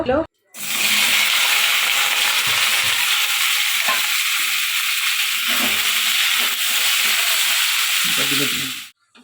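Oil sizzling in a hot kadai for palak paneer, a loud continuous broadband hiss that starts abruptly and holds steady for several seconds before cutting off, with faint talk and clatter beneath.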